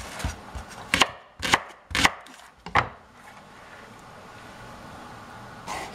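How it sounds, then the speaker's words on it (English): A knife chops leeks finely on a cutting board, with a handful of sharp, close knocks in an uneven rhythm over the first three seconds, then quiet before one last chop. "I chop up the leeks fairly fine"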